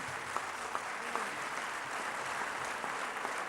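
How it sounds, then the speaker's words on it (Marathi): Loud, sustained applause from an audience at a Lata Mangeshkar award ceremony, a dense steady roar of clapping with a few sharper peaks, running the whole stretch with no talk over it. "पुन्हा एकदा जोरदार टाळ्या आपण वाजवून"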